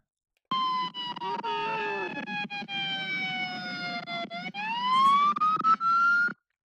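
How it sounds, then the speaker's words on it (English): A police siren wails steadily and loudly, its pitch sliding down slowly and then rising, with a brief burst of sharper tones near the end. "Good thing we got the sirens on"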